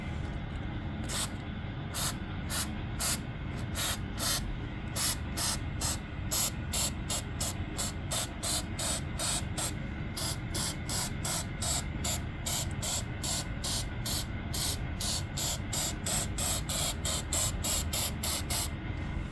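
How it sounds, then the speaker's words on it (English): Repeated short hissing bursts from a Flex Seal rubber sealant spray can on basement foundation cracks, roughly evenly spaced, each a sharp airy spurt over a steady background hum. "I have brought this flex seal and it's made of rubber. It's a spray"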